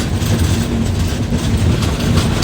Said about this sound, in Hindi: ट्रेन धीरे धीरे अब वडोदरा की तरफ